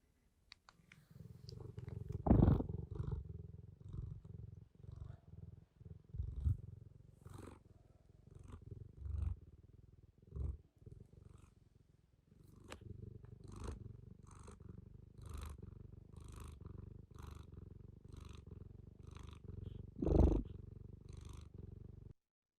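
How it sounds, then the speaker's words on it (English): A contented cat purrs steadily and close up for about twenty seconds, a soft continuous rumble with a regular in-and-out breathing rhythm and a few louder bumps, with no one speaking over it. "When cats are happy, they make a purring sound,"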